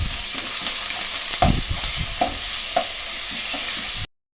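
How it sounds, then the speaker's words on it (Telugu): Curry leaves, turmeric and ginger garlic paste frying in oil for an old-style okra stew, a close, constant sizzle broken by several soft spoon knocks and stirs before cutting off abruptly. "2 రెమ్మల కరివేపాకు, కొద్దిగా పసుపు, అల్లం వెల్లుల్లి పేస్ట్ ఒక స్పూను వేసుకొని పచ్చివాసన పోయేంత వరకు వేపుకుందాం."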